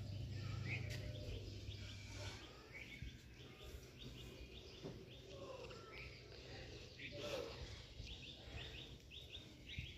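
Birds chirp and call in short, scattered bursts around a rooftop during a morning spent hanging out laundry, fairly faint over a steady outdoor hum with light rustling.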